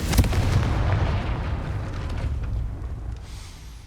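Confringo blasting curse explosion in Hogwarts Legacy, a single loud, deep boom that rumbles and slowly fades away.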